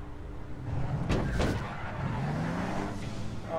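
Car engine in the APB Reloaded video game revving and surging as the vehicle drives, with a brief skidding swell in the middle, loud and close with no talk over it.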